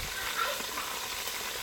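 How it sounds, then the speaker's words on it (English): Meat frying in hot oil in a pan, reused after frying vegetables for Ghanaian waakye stew: a steady, dense close sizzle and crackle with no pauses and no talk. "on fire and we are frying it."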